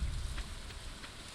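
Rain falls in the video game Stardew Valley during summertime, a short, steady patter of drops with a soft low rumble underneath and no voices.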